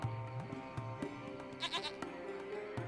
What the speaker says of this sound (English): It's a small goat.